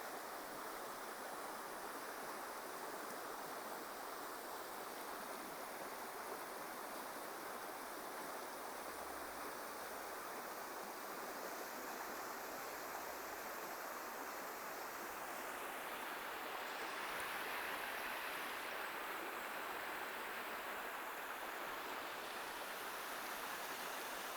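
Water flows steadily at a waterside spot, a soft continuous rush heard faintly from close by, with no voices, the noise swelling slightly partway through.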